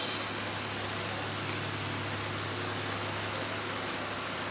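Green chili paste and salt sizzling with gongura (sorrel leaves) in a pan: a steady, even hiss of frying that runs without pause, with no voices.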